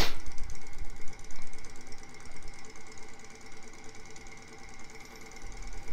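Homemade Stirling engine driving a fan, running with a steady rapid mechanical ticking and whirring, close and fairly loud, with a constant hum underneath and no voices.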